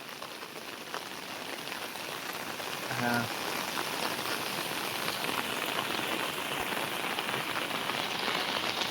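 Heavy monsoon rain pours steadily in the Konkan countryside over flooding rice fields, a dense, even hiss of drops close by, with a brief voice cutting in once.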